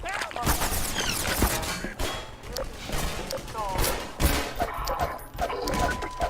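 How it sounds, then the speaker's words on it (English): Mounted gun firing in the video game Half-Life 2, rapid repeated bursts of gunfire with thuds and crashes throughout, loud and busy, with a voice talking over the shooting. "where you have to use a mounted gun"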